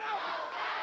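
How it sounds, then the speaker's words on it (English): Short burst of a wrestling crowd at a 1996 USWA show chanting together for Brian Christopher, a distant, blended roar of many voices sustained evenly for under a second. "Go, Brian, go, says the crowd."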